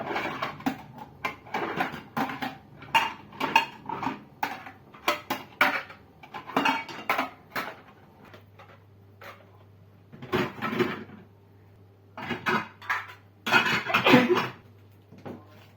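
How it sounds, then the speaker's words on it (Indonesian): Plates and glasses clatter and scrape while crusted food is cleaned off them at a kitchen sink, in irregular bursts of clinks and scratches with quiet gaps between. "aku beresin dulu piring-piring dan gelas-gelas ini keraknya"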